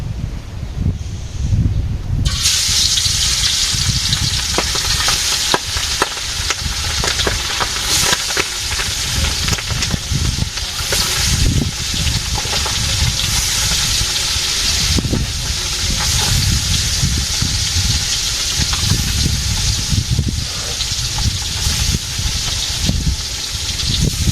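Pabda fish frying in a pan in a village kitchen, giving a loud, steady sizzle and hiss that runs without a break and is heard alone, close to the pan.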